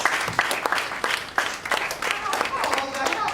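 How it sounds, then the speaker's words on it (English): A crowd claps at a safety event as a facilities company's managing director is introduced, with uneven, scattered claps and some speech mixed in. "A round of applause for him, please."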